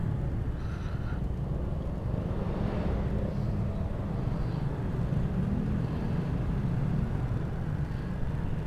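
Road traffic in Batangas, Philippines, makes a continuous low rumble of passing vehicles with wind noise, steady and unbroken throughout.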